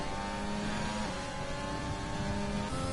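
Formula 1 race car engines in a racing video game league event at Austria scream at high revs, a steady loud whine that shifts pitch as cars hold near the rev limit.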